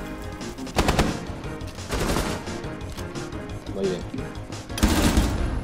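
Several bursts of automatic gunfire in the tactical shooter Rainbow Six Siege crackle sharply in quick succession, close and loud, while players talk briefly between the shots.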